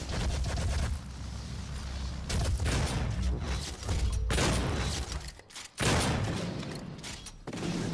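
Shotgun blasts in a DOOM multiplayer match, a run of loud booming shots separated by brief gaps, close and heavy over a busy game backdrop.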